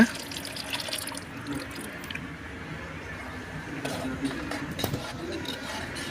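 Tamarind water poured into a cooking pot for temple-style puliyodarai, a steady liquid splash and trickle running throughout at moderate level, with faint background noise.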